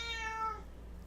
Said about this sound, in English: we can hear the cat